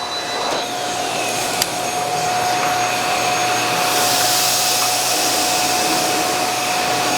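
A Miele Boost CX1 Cat & Dog vacuum cleaner runs at maximum suction, a loud, steady airy roar with a constant whine held throughout, close and uninterrupted, with no voices.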